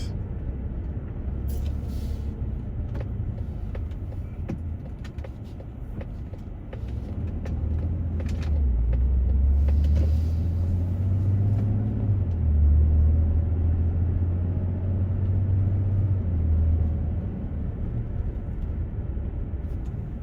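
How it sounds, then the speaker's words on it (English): A car drives through the Main Street area of Peekskill, New York, a steady road rumble and engine drone swelling midway, with a few brief clicks and knocks heard inside the cabin. "We're gonna drive back down in the town area, drive through Main Street."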